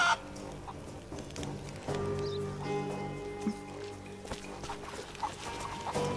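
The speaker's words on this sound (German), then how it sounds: "So, Hühnerweitwurf." Chickens clucking in the video game Rise of the Tomb Raider, several short fowl clucks and squawks scattered over a steady game ambience, fairly close and moderately loud, with no talking.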